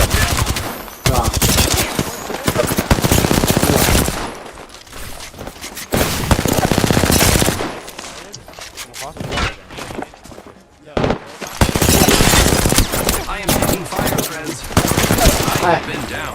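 Loud, rapid automatic gunfire from an Apex Legends ALGS tournament match comes in dense, repeated bursts with short gaps, mixed with game effects and voices talking underneath.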